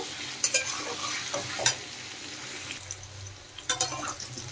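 Potatoes and pointed gourd fry in a pan for a vegetarian curry, giving a steady close sizzle with repeated sharp scraping strokes of a spatula as the pieces are stirred.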